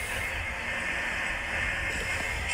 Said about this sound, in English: we are going to record a train at Fullerton,